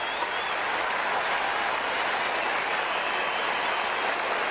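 A large stadium crowd at the Los Angeles Coliseum during the 1984 Olympic women's 800 m roars and applauds a world record, a dense, steady wash of cheering with no break throughout.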